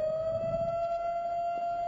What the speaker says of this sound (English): A siren signals a call to prayer on Shabbos